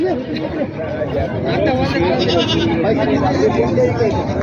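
Goats bleat repeatedly amid crowd chatter at a large open-air goat market in Maharashtra, the animals close and loose, their cries layered over steady voices.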